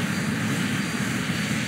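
Airplane engine droning steadily in flight, a loud continuous roar with a deep low hum and broad hiss, close and unbroken throughout with no voices.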